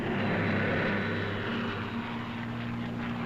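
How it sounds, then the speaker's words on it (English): Steady, loud drone of a WWII P-38 Lightning fighter plane, its twin piston engines and propellers holding a constant low harmonic roar with a slight swell, no voices over it. "Here is the Lightning, the P-38, master of the air in many theaters of war."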